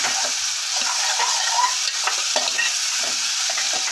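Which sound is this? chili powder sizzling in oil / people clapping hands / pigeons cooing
chili powder sizzling in oil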